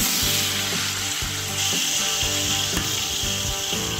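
Steady loud sizzling of onions frying in hot ghee, a constant crackling hiss with faint scraping and stirring knocks throughout.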